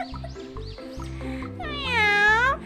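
A cartoon cat meows in a short, high, wavering cry near the end, following a bouncy musical phrase.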